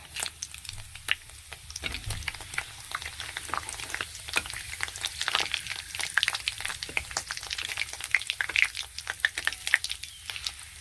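Bay leaves and dried chillies crackle and spit in hot oil for a tempering, a dense, continuous sizzle full of sharp pops, close and fairly loud throughout.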